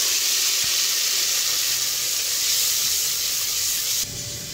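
Tomato, green chili and ginger-garlic paste sizzling hard with browned onions over a high flame, a loud continuous steamy hiss close by that drops off abruptly near the end.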